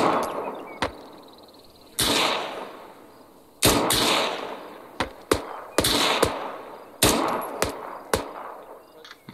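Gunfire in Arma 3 during a jungle infantry section training exercise: repeated loud rifle shots and short bursts ringing out at uneven intervals, each with a rolling echo tail.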